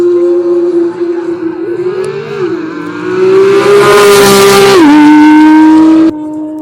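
Drag race car at a Utah speed festival with airshow, engine wailing as it launches: a loud sustained tonal roar that climbs, dips with a gear change and cuts off abruptly.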